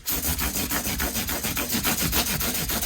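A same-grit abrasive fret file rubs back and forth along the frets of a counterfeit Les Paul-style guitar, quick regular strokes, close and steady, with no voices.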